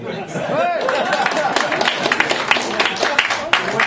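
Audience applause during a Parti Rhinocéros du Canada speech, a burst of dense clapping with scattered crowd murmur, fairly close and continuous throughout.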